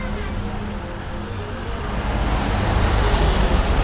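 Road traffic rolls along a street in Ubud, Bali, on a sunny day, with a steady engine and tire rumble that swells louder as a vehicle draws near.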